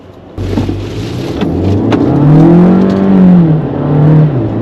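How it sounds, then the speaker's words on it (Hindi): A 2022 Skoda Slavia with the 1.5 TSI engine, driven in sport mode with paddle shifters, pulls hard and climbs in pitch through the gears. The engine sound is loud and close, with no talking. "Third gear, 5000 RPM, crossing 100 now. Fourth gear 106, 123, fifth gear"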